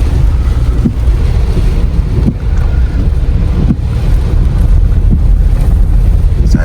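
Strong typhoon wind roars loudly and continuously around the microphone, buffeting it with heavy low rumbling gusts and periodic thumps, with no voices during the storm.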